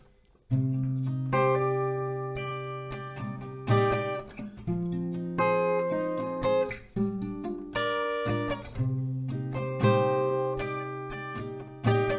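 An acoustic guitar alternates between picked individual notes and fuller strummed chords, ringing out steadily and close by.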